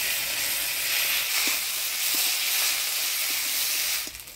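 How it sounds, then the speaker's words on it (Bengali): Ground spice paste of coriander, cumin and ginger sizzling in a hot pan while cooking ghugni, a loud steady hiss with faint stirring clicks, ending abruptly, no voices. "এবার দিয়ে দিব বাটা মশলা"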